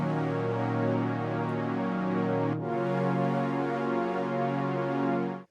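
Sustained Serum synth house pad chord holding steady with a gentle LFO vibrato wobble, briefly dipping at the midpoint before continuing, played alone with no voices.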